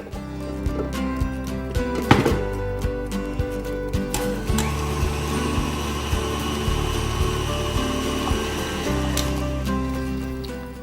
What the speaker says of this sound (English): I'm going to put it back on to blend the buttercream a little bit more.